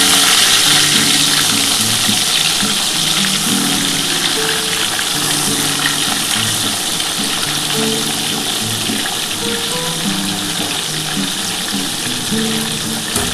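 Tilapia fish pieces fry in hot oil, making a loud, dense and continuous sizzle heard up close for the whole stretch, with no talk over it.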